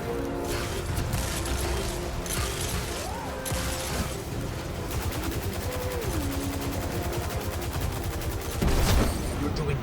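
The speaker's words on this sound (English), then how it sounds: "I rush up to one of its legs and damage it with my shotgun." A shotgun fires in the Destiny 2 video game against a walker's leg, with repeated blasts amid dense, loud, continuous battle noise and mechanical game sounds.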